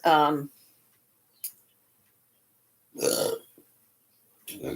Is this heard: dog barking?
no